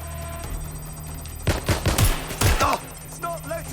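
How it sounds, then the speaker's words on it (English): Gunfire in Watch Dogs Legion sounds as a quick cluster of sharp shots and bursts over a couple of seconds, fairly loud, with electronic tones and a few short beeps around them. "Shots fired! Shots fired!"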